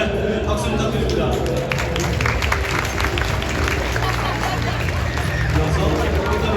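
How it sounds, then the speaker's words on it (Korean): A baseball stadium crowd claps and cheers during Oh Seung-hwan's retirement ceremony, a loud, dense roar of applause and crowd noise that stays constant, with voices mixed in. "박수 부탁드립니다"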